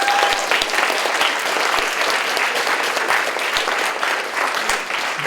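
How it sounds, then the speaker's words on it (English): A room of attendees at a student organization meeting gives a steady round of applause, many hands clapping continuously and close by at an even level throughout, with no speech over it. "How about a round of applause for Mrs. Reiner?"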